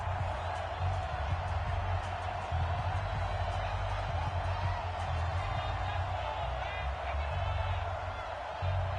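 Crowd noise in a PS4 football video game as a big third down approaches, a continuous roar of a stadium crowd building steadily, with a commentator's voice talking over it.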